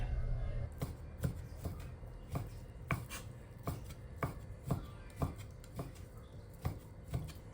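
A knife chops meat steadily on a cutting board, about a dozen evenly spaced thuds in a regular rhythm, close and clear with faint background noise.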